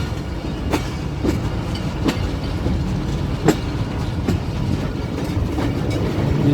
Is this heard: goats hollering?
no